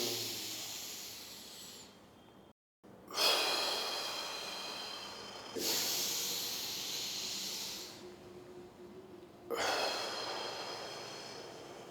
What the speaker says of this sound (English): So I'm breathing to the maximum.